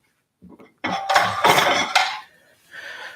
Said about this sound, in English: So we'll just put the plates there ready.